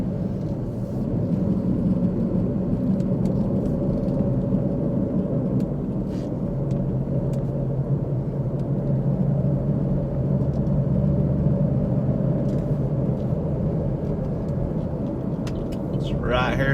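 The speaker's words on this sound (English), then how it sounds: "I'll drive out here just a second to" Car driving through residential streets, with a steady low engine and road rumble throughout and someone talking over it.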